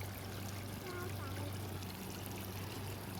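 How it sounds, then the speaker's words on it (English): Water splashes steadily over a toy water slide outdoors, a continuous even hiss with no breaks from start to end. "The splashing water, no?"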